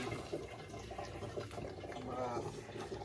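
Spring water runs steadily into a can set beneath it on a mountain trail in Nepal, a continuous close splashing and gurgling trickle with people talking over it.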